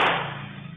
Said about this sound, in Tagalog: narinig ang isang putok ng bala